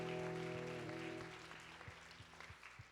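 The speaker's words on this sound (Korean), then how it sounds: "감사 박수를 하나님 앞에 드리며 나갑시다" A church congregation at a youth worship service at Sinchon Holiness Church gives a round of thanksgiving applause, soft and distant, with a sustained musical tone ringing beneath the steady patter of many hands.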